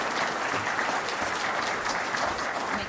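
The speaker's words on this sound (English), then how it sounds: "as we give you a round of applause" A luncheon audience applauds a scholarship recipient walking to the stage, a steady, even wash of many hands clapping at moderate volume and some distance with no voices.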